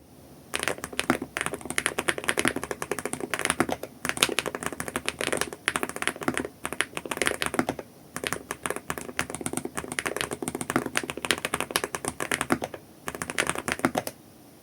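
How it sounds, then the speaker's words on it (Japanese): Steady, fast typing on a mechanical keyboard fitted with KeyTok NOVA magnetic switches and an aluminum plate. The keys give dense, crisp clacks in continuous bursts with brief pauses, close up, with no talking. "それでは打鍵音をどうぞ。"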